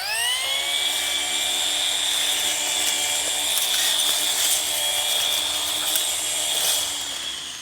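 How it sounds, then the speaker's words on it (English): A battery-powered Amiluo electric string trimmer whines at a high pitch as it cuts grass and brush. The motor is loud and continuous, with scattered ticks and snaps of vegetation and a slight fade at the end. "So it can make some short work of some brush if you're wanting to go out and trim some grass."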